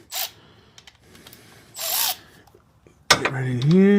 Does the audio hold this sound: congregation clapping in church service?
no